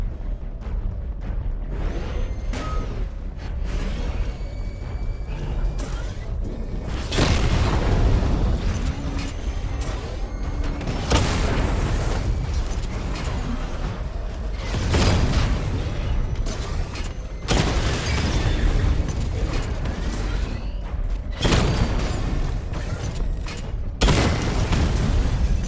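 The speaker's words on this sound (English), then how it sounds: "Charge up missile barrage to level 2 and destroy 4 active targets to complete diagnostic test." Batmobile missile barrage in Batman: Arkham Knight, with a series of heavy booming blasts that land in separate bursts every few seconds over a low mechanical rumble. No one speaks.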